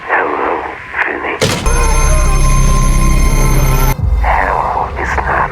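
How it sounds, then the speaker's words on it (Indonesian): A black telephone in a horror film rings with a loud, steady electronic tone lasting about two seconds, with quieter voices before and after. "Lalu Vinny mendengar suara panggilan telepon dari telepon hitam"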